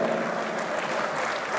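Audience applause at an Urdu mushaira poetry gathering in Muscat, Oman: a steady, dense wash of clapping from a crowd, sustained and even throughout without voices above it.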